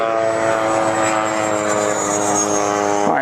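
An FMS Rafale 64mm EDF RC model jet taxis on grass. Its ducted fan gives a loud, steady, close whine with layered tones throughout, and the pitch shifts briefly at the end.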